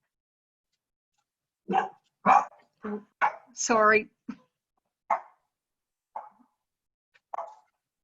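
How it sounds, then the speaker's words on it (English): Several sharp barks from a dog ring out in short bursts, spaced irregularly over a few seconds, with a person speaking briefly nearby. "Sorry that everyone can hear my dogs barking."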